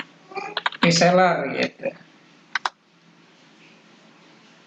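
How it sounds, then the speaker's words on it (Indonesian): Typing on a computer keyboard, a few quick, light clicks before and after a short stretch of nearby talk, then the room goes quiet. "Kita ketik aja di sini"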